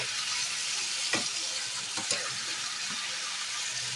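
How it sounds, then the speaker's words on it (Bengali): Chicken pieces for biryani frying in hot oil, a loud, dense sizzle that holds steady for the whole stretch, broken by a few soft knocks of stirring. "মাংসগুলো আমি তেলের মধ্যে দিয়ে দিয়েছি এগুলো ভালো করে ভেজে তুলে নেব আমি এপাশ ওপাশ করে"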